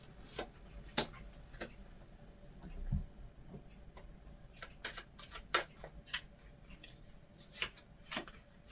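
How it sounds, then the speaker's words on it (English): Oracle cards are shuffled by hand in quiet, soft riffling and tapping bursts, with faint irregular clicks spread over several seconds and no talking. "Some oracle cards."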